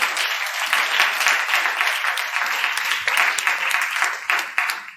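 A church congregation bursts into sustained applause during a worship service, a dense, steady wash of many hands clapping together for the full length, loud and close with no pauses.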